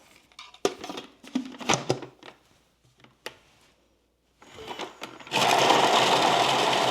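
A Thermomix TM7 chops onions in olive oil, starting with a few clicks and handling knocks before the motor kicks in with a loud, steady, close whirring drone that continues to the end.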